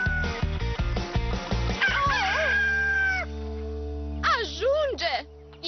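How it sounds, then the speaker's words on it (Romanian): A rooster crows in a cartoon farm scene, one drawn-out cry rising and falling, while voices talk over it. "Cocoșul acela și-a cântat ultimul cântec."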